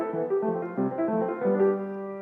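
Piano played without sustain pedal, a short phrase of detached, clearly separated notes and chords at moderate volume, each dying away quickly rather than ringing together.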